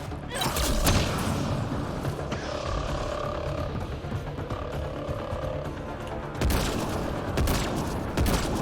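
Sniper rifle fire in the Mass Effect: Andromeda video game, heard as loud bursts of shots and thumps within steady combat noise, with a few sharp cracks near the end.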